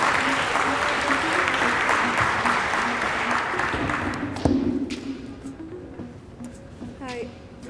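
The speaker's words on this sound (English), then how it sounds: "Give them a hand of applause, please." An event audience applauding young people, dense clapping loud at first then thinning and fading out, with voices heard as it dies down.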